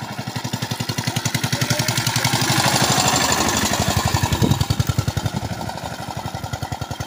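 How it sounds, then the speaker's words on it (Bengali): An engine van, a motorized rural cargo van in a Bangladeshi village, runs close by with a loud, steady rapid thumping engine beat that holds for several seconds, alone with no talk. "এটাকে বলে ইঞ্জিন ভ্যান"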